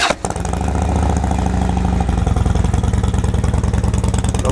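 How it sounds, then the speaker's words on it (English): A Harley motorcycle engine cold starts with a quick crank and catch, then settles into a loud, close, lumpy idle with a steady uneven rhythmic pulse. "But let's do a cold start because people like cold starts."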